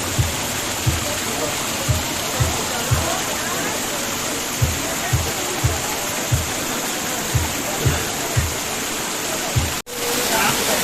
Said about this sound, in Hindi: तो ये है पीछे वाटरफॉल, जो ऐसे ऊपर से आता है पानी, देख सकते हो।